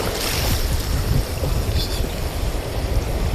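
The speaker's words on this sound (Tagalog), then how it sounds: "Laking alon kasi mga master" Big sea waves wash and churn around a small fishing boat out at sea, a constant loud rushing of water and wind with low rumbling surges close by.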